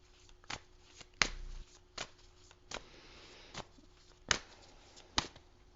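A deck of tarot cards being shuffled close up, a series of sharp riffling bursts spaced irregularly about a second apart, separated by quieter rustling and handling, with no talking.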